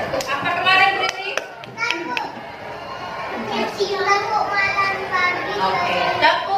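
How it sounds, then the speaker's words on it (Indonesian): Children in an Indonesian classroom clap hands in a clapping game, a run of sharp claps at the start followed by lively children's voices and chatter over scattered taps. "sebelum itu kita bermain tepuk"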